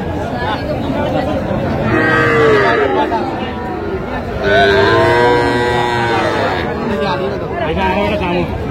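Cattle, including young bulls and calves, low and moo in long drawn-out calls, one after another, close by, while people chatter in the background at a cattle market in Dhaka.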